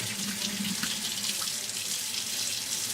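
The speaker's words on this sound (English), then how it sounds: "And rinse it clean." Tap water pouring steadily into a sink while makeup brushes are rinsed clean of soap, a continuous close splashing rush with no talk.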